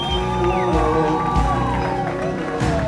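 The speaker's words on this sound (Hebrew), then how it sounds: "אני רוצה לשמוע המון כפיים להורי החתן" Wedding guests in a Kala banquet hall applaud and cheer for the groom's parents, a loud crowd of clapping and shouts over steady DJ music, with a voice talking at times.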